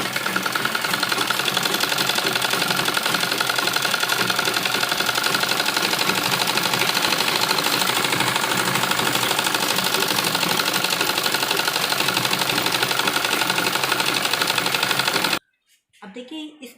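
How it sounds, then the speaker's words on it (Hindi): A sewing machine runs a long steady burst of fast even needle clatter while stitching a seam on dupatta fabric, loud and close, then stops abruptly before a brief murmur of speech. "तो यहाँ पर दबी सिलाई लगानी है हमें इस तरीके से"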